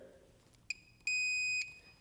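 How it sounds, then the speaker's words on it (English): A multimeter gives a continuity-test beep while checking soldered connections on a car radio wiring harness: a short chirp, then a steady loud tone lasting about half a second before it cuts off, with no one talking. "you can see that our multimeter is going to beep"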